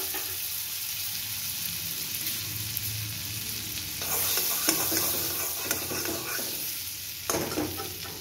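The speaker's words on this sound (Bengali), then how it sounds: "আমি মশলাটা তৈরি করার জন্য প্রথমে কড়াইয়ে 1/2 টিস্পুন মতো বাটার দিয়ে দিলাম" Spices sizzling and frying in a little butter in a wok, a steady soft crackle throughout with louder bursts of stirring and scraping toward the end, no voices.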